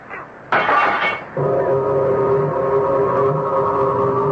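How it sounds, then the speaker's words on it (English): A glass bottle smashes as a radio drama sound effect, a brief bright crash that gives way to a sustained, steady tonal drone. "The moment the bottle broke"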